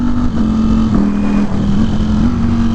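A Ducati Streetfighter V4 motorcycle runs through upshifts, a loud, close, steady engine drone whose pitch dips briefly and recovers at each gear change.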